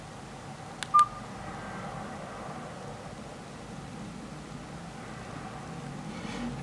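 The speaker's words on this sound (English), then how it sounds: "Keypad tone, I'll put it on the loudest." Keypad tones from a Nokia 222 mobile phone: two quick electronic beeps close together near the start, then only a faint steady hiss for the rest of the stretch.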